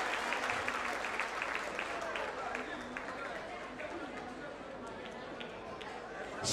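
An audience at a public event applauds, with steady clapping and crowd chatter heard at a distance over a continuous, low hum.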